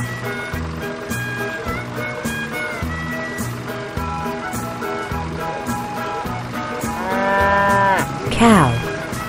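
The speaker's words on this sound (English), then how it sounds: "Cow." A cow lets out one long, loud, drawn-out moo near the end, rising then falling, after a stretch of steady rhythmic background sound.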